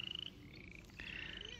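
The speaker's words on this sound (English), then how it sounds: "Here are the frogs in the background." Frogs croak steadily in the background at a homemade pond or lake on a property around 8:30 in the evening, with a high trilling chorus running through the whole stretch, no voices.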